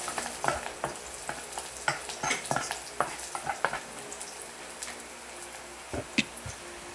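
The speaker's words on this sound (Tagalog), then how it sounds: "Ako nagigisa guys." Onion and garlic sautéing in a pan, with an utensil stirring and clinking against the metal in irregular taps over a steady, crackling sizzle.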